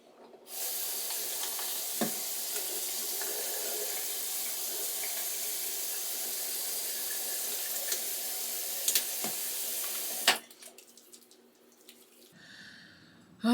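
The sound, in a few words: water running from faucet while washing face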